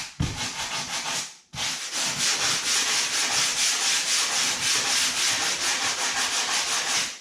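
Steady, continuous rasping of sandpaper rubbing foam and fabric on a foam-and-fabric fishing boat hull, close and loud, with a brief pause near the start before long unbroken strokes resume.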